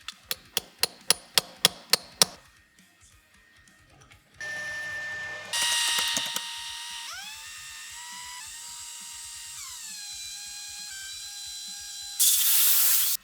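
Machining chamfers on a 17-4PH stainless steel barbell collar sleeve: a run of sharp clicking ticks, then whirring and high ringing tool tones that hold steady before a harsh hiss at the end, with no talk.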